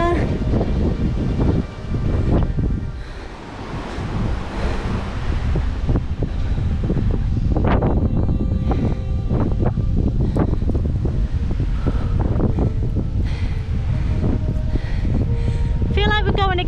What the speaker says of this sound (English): Feel like we're going against the wind.